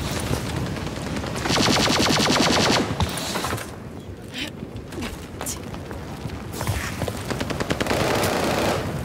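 Call of Duty: Vanguard ranked hardpoint match gunfire, loud sustained automatic bursts with rapid rattling shots, brief pauses and renewed fire, dense and close throughout.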